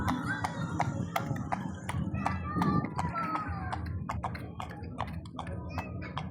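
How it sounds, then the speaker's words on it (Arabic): Hooves of a purebred Arabian horse while it is ridden, a steady run of sharp taps and clops under near-constant talking from a rider or handler. "والله خيل عربي اصيل"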